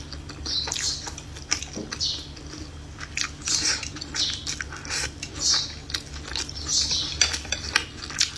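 Healthy frozen food being eaten up close, with steady bites, crunches and chewing plus faint utensil clicks over a low background hum, and nobody talking.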